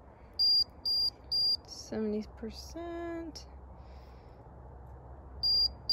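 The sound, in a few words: pet tracker device beeping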